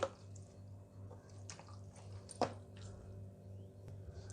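A hand squishes and mixes soft curd rice with a little added water, faint wet squelching and dripping with one sharper squelch midway, no talking.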